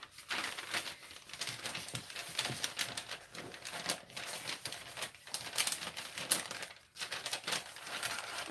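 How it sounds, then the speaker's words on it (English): Paper folded and pressed to line soap molds, producing continuous crisp crinkling and rustling with sharp crackles, fairly close and steady throughout. "I'm sorry if this paper is really loud"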